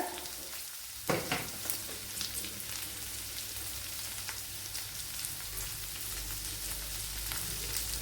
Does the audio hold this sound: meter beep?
no